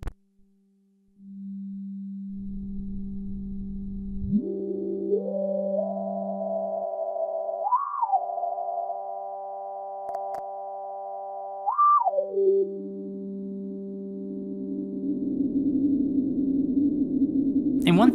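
Absynth 5 synthesizer playing a granular atmospheric patch: steady sustained electronic tones with sliding pitch glides and two brief rising swoops midway, ending in a grainy, noisier swell, with no voices.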